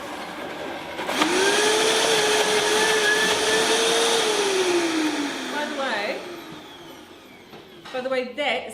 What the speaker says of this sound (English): So I'm just going to whiz the berries first